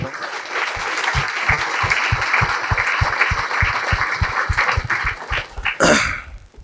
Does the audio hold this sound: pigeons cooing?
no